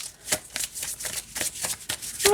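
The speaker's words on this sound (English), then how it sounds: "And it shuffles fine this way too." Spectrowhirl Oracle cards being shuffled by hand, a quick series of crisp riffling bursts at an uneven rhythm, close and fairly soft, with no talking.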